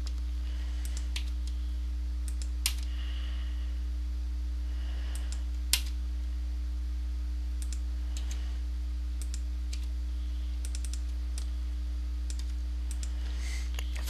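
Quiet computer keyboard and mouse clicks, a few sparse taps and two sharper clicks, over a steady low electrical hum, with no voices.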